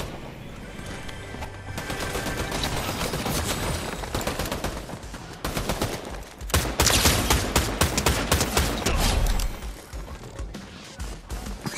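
Rapid bursts of gunfire from a gun in Fortnite, dense and continuous, growing louder and more intense toward the latter half with sharp repeated cracks.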